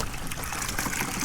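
Maple sap drips and trickles from spigots tapped into trees, running into collection bags with a continuous watery patter that is close and fairly loud.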